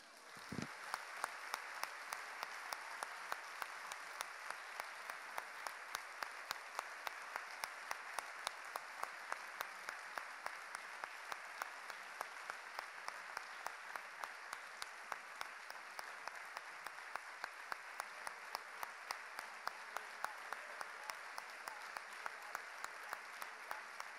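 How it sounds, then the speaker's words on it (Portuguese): A church congregation applauds during a morning service, steady dense clapping from many hands filling the room continuously from start to finish, with no talking over it. "Vamos aplaudi-lo?"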